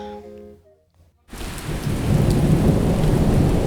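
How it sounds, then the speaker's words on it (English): Thunderstorm with steady heavy rain bursting in after a short quiet musical fade, a dense continuous wash of rainfall and low thunder rumble with no voices. "On a dark and stormy night,"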